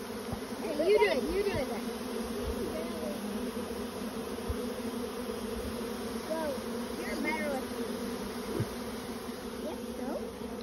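A honeybee swarm moving into a bait hive gives a steady, faint, droning buzz, with individual bees occasionally flying close by.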